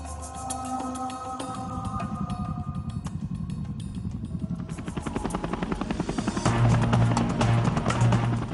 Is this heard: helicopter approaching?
yes